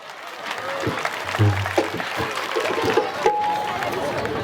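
An audience of women claps together at a comedy games event, a loose wash of applause that swells and fades while a voice talks over it.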